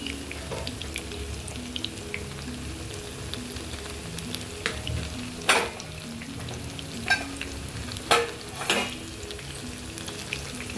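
Battered eggplant slices for Bengali beguni frying in oil, a steady close sizzle with bubbling crackle and a few sharp pops and scrapes at intervals.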